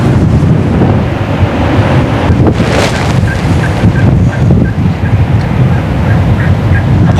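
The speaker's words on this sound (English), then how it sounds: "I think I just heard a hen" A wild turkey hen calls in a series of short, evenly spaced yelps, fairly faint, over heavy wind noise and outdoor rumble.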